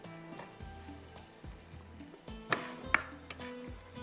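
Onions frying in butter in a deep kadai, a low crackling sizzle with repeated stirring knocks and two sharp metallic clinks midway, quiet and close, no one talking.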